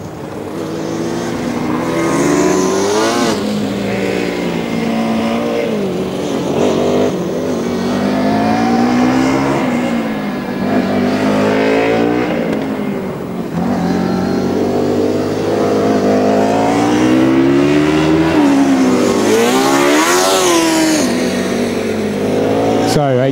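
A Formula Student race car, the HSU Hamburg entry in the 2009 Formula Student Germany endurance event, passes at speed with its engine note rising and falling through loud, close revs and gear changes.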